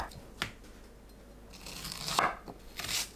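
A knife cuts a halved Korean zucchini into thick slices on a cutting board, giving a few soft, separate chops and crunches that are faint and close.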